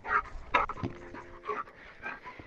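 A dog panting and whimpering in short breathy bursts, fairly close, with a faint voice murmuring in the background.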